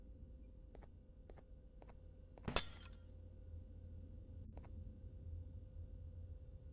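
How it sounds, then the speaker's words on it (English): A single sharp glass shatter bursts out loud in the Garten of BanBan video game, a brief crash with a tinkling tail, set against a steady low game hum and a few faint clicks. "Pen 15, you just broke the glass."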